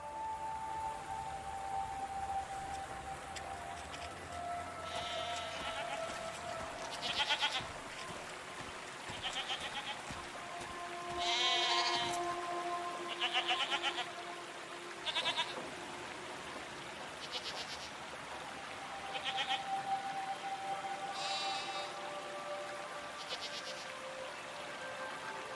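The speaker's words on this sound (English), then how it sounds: "What are these strange goat-like creatures?" Goat-like creatures bleat in a video game, several short repeated calls over a steady ambient bed with faint insect and stream-like background.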